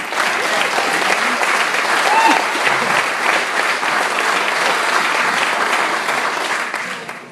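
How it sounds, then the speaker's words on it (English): A wedding reception audience gives a big round of applause during the best man's speech, dense sustained clapping filling the room for several seconds before tapering off. "So I'll give them a great round of applause."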